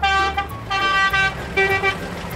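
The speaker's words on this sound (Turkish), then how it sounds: "korna çalıyor işte" Car horn honking in three loud, close blasts, each about half a second long, separated by short gaps over a low traffic rumble.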